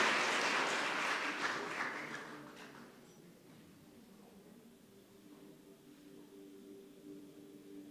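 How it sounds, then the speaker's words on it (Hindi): An audience at a college event applauds loudly to welcome a film screening. The clapping is dense for about three seconds, then fades into quiet room noise. "तो एक बार जोरदार तालियों से इस मूवी का स्वागत करते हैं"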